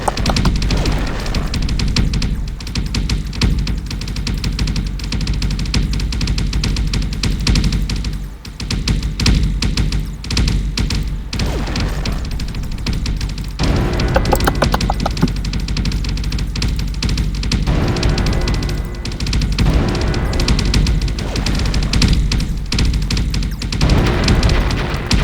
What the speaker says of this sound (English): Our cannons are being really helpful now that they're actually hitting.